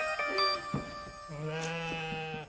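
A lamb bleats in a TV drama scene, with a few wavering cries at close range over a faint background tone.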